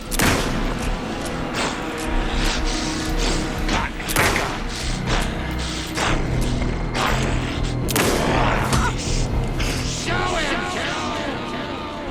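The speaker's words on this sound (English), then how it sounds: "Anderson, pin him down with gunfire for me to get the light on him." Dense rapid gunfire with heavy booming thuds in Alan Wake 2, continuous and loud throughout, with occasional shouted voices mixed into the chaotic battle noise.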